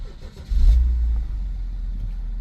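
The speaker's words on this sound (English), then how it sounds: "then we're going to start the car" A BMW X5 E70 with a battery not charging, started with the key: the engine cranks and catches after half a second, roaring up loud and close, then settling into a steady low idle.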